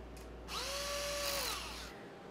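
A power drill runs side bolts with RTV silicone on their shoulders into an LS engine block during a crankshaft install, one steady whir of about a second and a half with a rising then falling pitch, close and clear.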